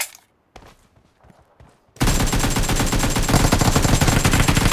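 Rapid, sustained automatic fire from an AKM rifle with a Jack-O-Lantern skin in PUBG Mobile, loud and continuous after a quieter stretch of scattered shots and footsteps.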